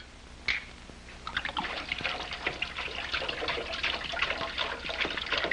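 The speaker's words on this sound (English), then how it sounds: "Pour it in the sink." Liquid poured steadily into a sink, a trickling, splashing stream that carries on for several seconds after a brief knock, close and moderately loud, no voices.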